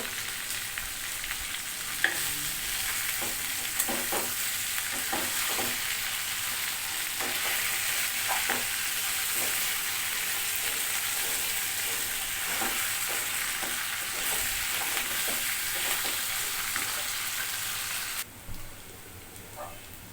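A fish head fries in hot oil, a steady sizzling hiss close by, broken by repeated scraping and knocking as a utensil stirs it, continuing for about eighteen seconds before the sizzle drops away, with no talking.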